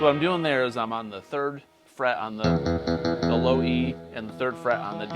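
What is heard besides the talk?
No distinct noise like a dog, phone or traffic.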